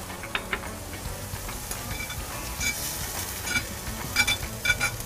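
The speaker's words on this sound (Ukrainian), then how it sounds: "Грибочки смажаться." Soft sizzling and crackling of mushrooms frying in a pan, with occasional scraping stirs and light clinks, no voices.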